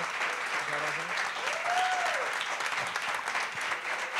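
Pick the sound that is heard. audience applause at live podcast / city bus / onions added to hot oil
audience applause at live podcast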